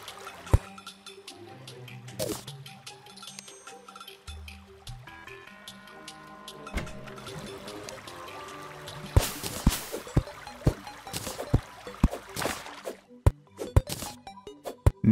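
Pixelated water pours down in a Terraria game, a steady trickling, dribbling stream of liquid with scattered drips and sharp splashes growing busier over time, no voices over it.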